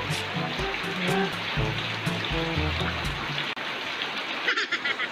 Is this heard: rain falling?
yes